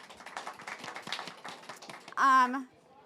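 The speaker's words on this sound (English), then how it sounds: "Round of applause." Scattered audience clapping at a food-security panel event, light and uneven for about two seconds, then cut off by a short voiced sound.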